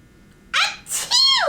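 A single sneeze from a radio-drama performer, with a sharp intake of breath followed by a loud, bursting "achoo" that trails off into a falling, voiced wail. It is close and clear against near-silence.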